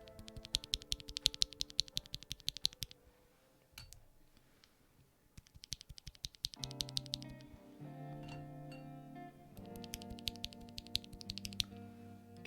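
Keys of a rebuilt Alix40 keyboard clacking: quiet, close, irregular bursts of crisp keystrokes, with a pause midway before denser typing resumes over a faint background.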